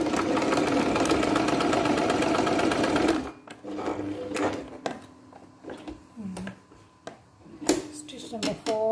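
A Brother PX-110 sewing machine stitches in a loud, steady mechanical run for about three seconds, then falls to brief clicks, knocks and short bursts of handling noise.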